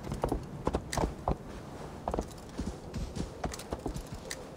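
Horse hooves clip-clop on the ground in Assassin's Creed Valhalla as a black horse walks, a steady run of close, moderately loud hoof beats with no talking.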